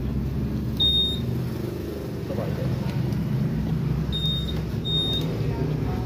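A car engine, freshly ECU-remapped with new timing, idles at a steady low rumble close by, with a few thin electronic beeps and people talking over it.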